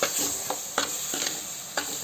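A spoon stirring sardine curry with tamarind and tamarind water in a hot pan, making several evenly spaced scraping strokes over a steady sizzle, close and fairly quiet, with no voices.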